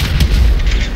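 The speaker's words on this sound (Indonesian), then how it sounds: "Udah, ini ada petasan nih." A firecracker goes off inside the GTA video game with a loud, deep boom, followed by a continuous low rumble and crackle.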